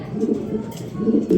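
Soft, low pigeon coos repeat a few times close by, with faint background noise.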